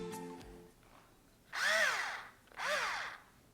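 A small electric wine opener motor whirs in two rising-and-falling bursts pulling a cork, close and fairly quiet, after a short faint tone at the start.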